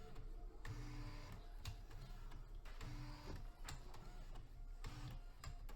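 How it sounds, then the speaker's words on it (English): The world's smallest printer, a 1994 model, running a default settings page: a faint, steady mechanical buzz with rhythmic clicking print-head passes repeating about once a second, close up and without talk. "This is the default settings page that is printing."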